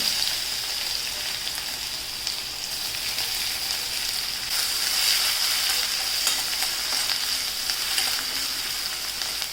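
Onion and green chillies cook in hot oil in a pan, making a steady, close sizzle throughout with a brief burst of stirring near the middle.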